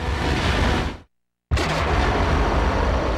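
Sonic charge missile impact in Star Wars: Rogue Squadron: a loud, dense roar cuts to total silence for about half a second, then slams back in as a full, close, sustained explosive blast.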